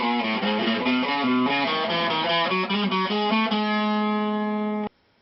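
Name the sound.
electric guitar playing part of a song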